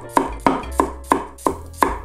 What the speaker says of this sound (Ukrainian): беремо цибулю і нарізаємо